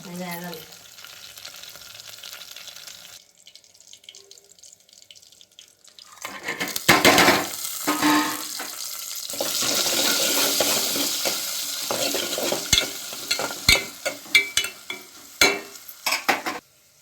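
Tomatoes frying in a pan with stirring, quiet at first and then a loud sizzle from about six seconds on, with scraping and clatter from the stirring and sharp knocks near the end.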